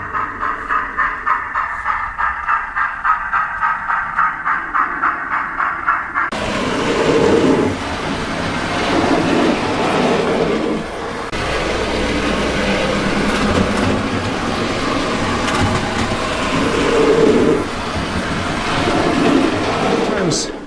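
A Hornby Merchant Navy Class model steam locomotive runs on model track, a steady rhythmic clatter that grows louder and fuller partway through as it rolls nearer, continuing evenly to the end.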